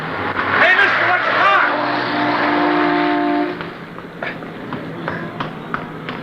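Radio drama car scene on a busy street: an engine roars close and loud as the car nearly strikes a man, then fades as it passes, with running footsteps and voices over it.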